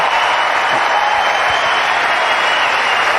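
A Wimbledon 2018 crowd, at a tennis match between Edmund and Djokovic, applauds in loud, dense, continuous clapping with no break for the whole stretch.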